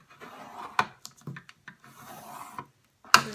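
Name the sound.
scoring a fold line for a shadow box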